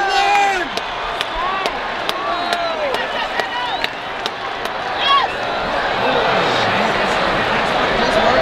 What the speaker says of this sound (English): The crowd's getting into it. It's like Yankee Stadium out here.